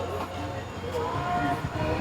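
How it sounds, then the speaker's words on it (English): A small toy train runs in a Christmas house display, with a steady mechanical hum and light rattling heard close up while people chat around it. "See, look at the train over here."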